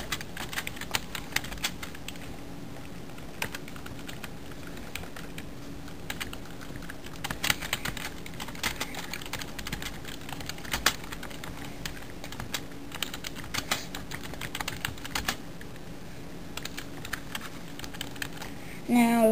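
Typing on a computer keyboard: rapid, uneven key clicks heard up close and continuing throughout, with a short voice right at the end.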